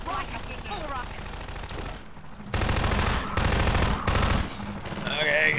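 Combine gunship in Half-Life 2 firing long bursts of rapid automatic fire, loud and close, in two or three sustained strafing runs with a voice and game sounds in between.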